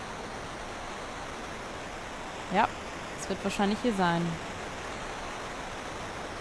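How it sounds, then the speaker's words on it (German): An underground waterfall in the video game Final Fantasy IV gives a steady, even rush of water throughout. Someone speaks briefly in German over it midway. "Unterirdischer Wasserfall."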